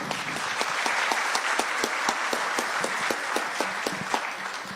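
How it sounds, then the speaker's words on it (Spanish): An audience at an evening tax and electronic invoicing forum applauds steadily after a certificate presentation, a dense, even clapping crowd with some louder individual claps keeping a loose beat throughout. "Fuerte el aplauso para don Fernando."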